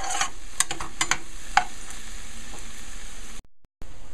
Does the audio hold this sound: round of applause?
no